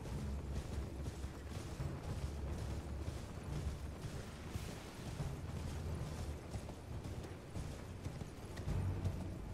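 Horse hooves galloping in the game Elden Ring, a steady rapid drumming of hoofbeats with a dense rumbling texture, loud and continuous throughout with no voices.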